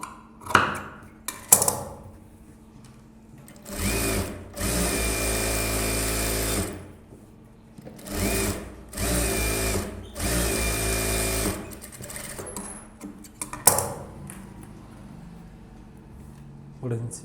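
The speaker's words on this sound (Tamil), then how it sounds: "இப்போ வந்து ஓரத்தையில் தையல் போட்டுடலாம்." Sewing machine stitching along the edge of a blouse in bursts of steady, rapid mechanical whirring, each run lasting a few seconds with a close, loud hum, separated by quieter pauses with handling clicks and a speaking voice.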